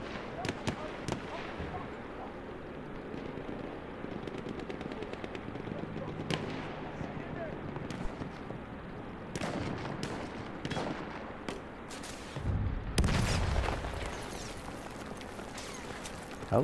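Rocket fire and explosions ring out in a Battlefield 1 match: sharp scattered blasts and cracks at irregular intervals, followed by a heavier rumbling explosion near the end, with game noise throughout.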